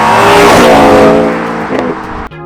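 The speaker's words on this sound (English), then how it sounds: "I was stood outside of this car as it shoots by so you can hear the amazing sound it makes" A loud Ford S550 Mustang GT engine roars and rises in pitch as the car speeds past close by, then quickly fades, ending with a sudden cut.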